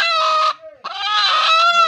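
A freshly caught chicken squawks loudly right up close, two long, harsh, strained calls separated by a brief gap.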